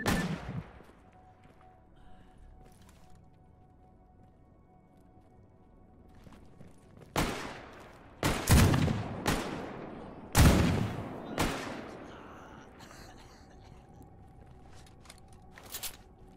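Gunfire in S.T.A.L.K.E.R. GAMMA cracks out in several sharp, loud shots clustered in the second half, separated by quiet gaps with faint ambient game sound and occasional speech.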